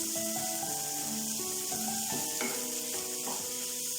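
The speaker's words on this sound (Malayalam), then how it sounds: "എന്നിട്ട് നമുക്കിതൊന്ന് നല്ലോണം ഇളക്കി കൊടുക്കാം." Tomatoes cook in a pan for paneer butter masala, a soft continuous sizzle with stirring scrapes, close and steady while faint tonal background sounds run underneath, with no talk.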